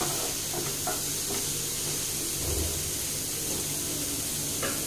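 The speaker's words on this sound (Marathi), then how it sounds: "अशा प्रकारे मस्त कांदा भाजून द्यायचा आहे।" Chopped onion roasts in a hot pan for paneer bhurji, giving a continuous loud sizzle and hiss with a few soft stirring scrapes, close up and without voices.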